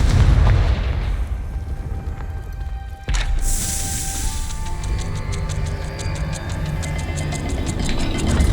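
A Confringo spell explosion in the Hogwarts Legacy video game erupts with a heavy boom at the start, then a second sharp blast follows, giving way to a crackling, ringing rumble as the game continues.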